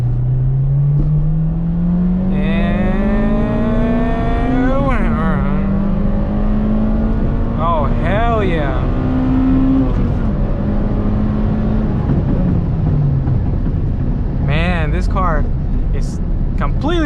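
A stock Honda engine with VTEC revs hard through the gears during a pull, its pitch climbing steadily, dropping at shifts, then rising again, loud and close, with a man's brief excited remark over it.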